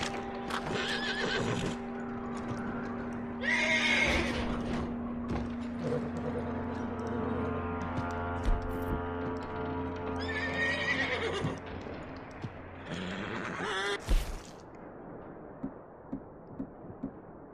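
A horse in the video game Red Dead Redemption 2 whinnies loudly, then clip-clopping hooves and snorts follow at close range, with a brief sharp thump near the end and no talk.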